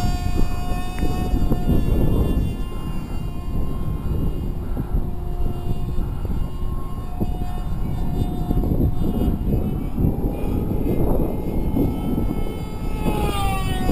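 A Skorch RC model airplane with an AP .061 engine and tuned pipe flies overhead, giving a steady, high-pitched buzzing whine that holds for the whole stretch and rises in pitch near the end.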